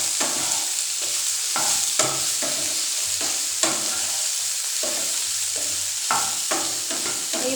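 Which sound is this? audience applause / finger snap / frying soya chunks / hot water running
frying soya chunks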